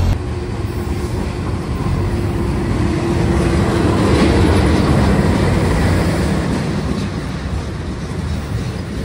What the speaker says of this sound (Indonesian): Kereta barang lintas utara itu biasanya peti kemas